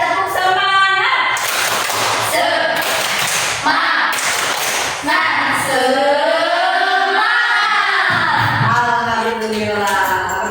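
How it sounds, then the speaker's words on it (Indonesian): A class of schoolchildren does a rhythmic spirit clap as a classroom ice-breaker: sharp, patterned hand claps mixed with loud chanting voices, repeating over about ten seconds. "3, tepuk semangat."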